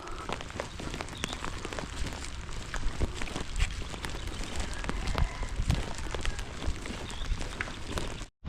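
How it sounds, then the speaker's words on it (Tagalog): Steady heavy rain pattering on surfaces, a dense continuous hiss with scattered drop impacts throughout. "Yun, malakas ang ulan guys."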